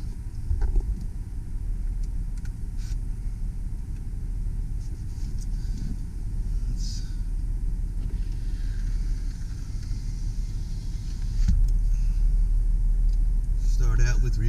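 A 2007 Dodge Grand Caravan SXT with a mobility scooter lift drives on a test drive, heard from inside as a steady low road and engine rumble that grows slightly louder near the end.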